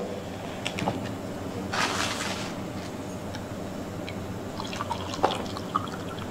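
Water poured from a bottle into a tumbler makes faint drips and a brief gurgling splash near the start, then a few soft drops and trickles over a quiet room background.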